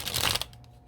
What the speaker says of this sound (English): These cards are a little tough right now to shuffle because they are brand new.